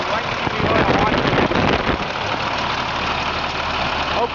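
A truck engine idles nearby, producing a loud, steady rumble with a rough, slightly uneven chug under a voice talking.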